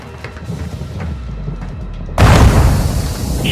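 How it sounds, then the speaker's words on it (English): A grenade explosion in Call of Duty: Modern Warfare II erupts as one loud, sudden boom partway through, followed by a sustained rumbling blast that overwhelms the quieter tense background. "Grenade!"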